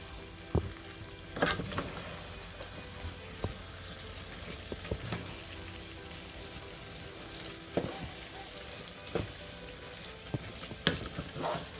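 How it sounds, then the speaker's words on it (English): Food stirred in a frying pan during a quick under-30-minute meal: a steady close sizzle with scattered sharp utensil scrapes and taps against the pan, no talking. "we're just gonna stir this all up, okay? A good mix"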